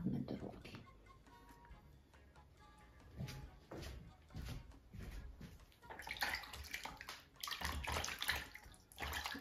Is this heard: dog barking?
no